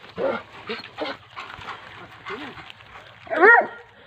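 A dog gives a sharp, high bark near the end, after several seconds of people talking nearby.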